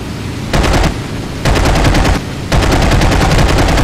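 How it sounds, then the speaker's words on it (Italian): Bursts of rapid automatic gunfire in a video game as someone shoots on a runway, three loud sustained volleys with brief gaps, close and dense, no talk. "C'è uno sulla pista che spara"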